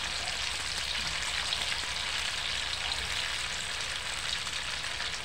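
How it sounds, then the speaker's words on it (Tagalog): String beans and tofu fry in a pan for an adobo dish, giving a steady, close sizzle and crackle that runs unbroken through the whole stretch with no voices. "Bahagya lang guys ang pag ako magprito kasi matigas pa siya."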